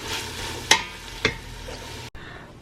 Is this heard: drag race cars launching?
no